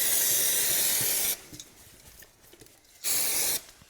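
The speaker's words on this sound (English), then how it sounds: "clean it down again with brake cleaner" Brake cleaner sprayed onto a Honda CB500X motorcycle front brake in two bursts, a long loud hiss followed by a shorter one after a pause, with light handling noise between them.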